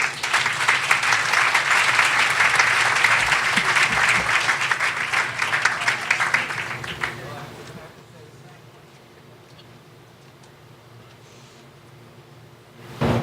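Audience applause from a symposium luncheon crowd welcoming a speaker, dense and loud for about seven seconds before cutting off into quiet room tone.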